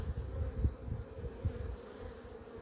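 A steady low honeybee buzz with soft fluttering pulses, many bees humming close together around a queen returning from her mating flight at the hive, continuous throughout with no voices.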